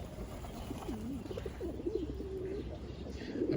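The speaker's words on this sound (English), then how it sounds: "I've got a flock of pigeons." A flock of pigeons on a town street in San Miguel de Allende, Mexico, with soft repeated throaty coos from nearby birds over a low background hum.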